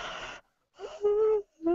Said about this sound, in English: a little bit of yawning here